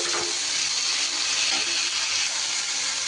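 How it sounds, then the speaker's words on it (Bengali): Potatoes frying in a pan with salt and a little turmeric while being stirred, a steady loud sizzle with light scraping, close up and without talk. "একটু নাড়িয়ে চালিয়ে আলুটাকে আমি ভেজে নিচ্ছি"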